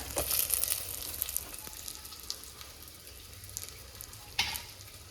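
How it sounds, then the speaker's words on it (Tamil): Chopped small and large onions sauté in a pan for a mango curry, giving a steady close sizzle with occasional stirring scrapes and clinks, and no one talking. "வெங்காயம் கொஞ்சம் நேரம் வதங்கட்டும்"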